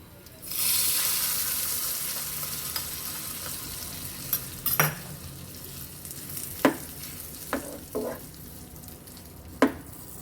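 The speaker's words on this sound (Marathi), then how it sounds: "आता आपला तडका रेडी झाला आहे. आता मी याला खिचडीमध्ये घालून घेणार आहे." Hot tempering poured into spiced vegetable khichdi bursts into a loud hissing sizzle, followed by a few sharp spoon clinks and stirring knocks against the pot as the hiss fades.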